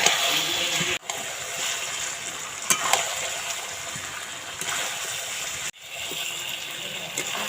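Water goes into a pot of browned duck meat curry with potatoes on a home stove, a sustained rushing, bubbling sizzle broken by two brief pauses.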